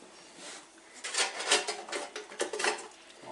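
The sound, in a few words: metal shears cutting sheet metal for a rocket stove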